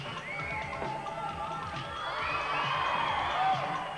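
Crowd at a 1986 old-school international BMX freestyle competition cheering a rider's aerial, a rising swell of shouts and whistles that builds toward the end over a busy background.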